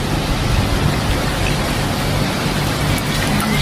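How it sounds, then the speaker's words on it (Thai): Heavy rain pours steadily in Samut Prakan, Thailand, a dense, loud, unbroken hiss of falling water with no voices. "ฝนตกแล้วค่ะ"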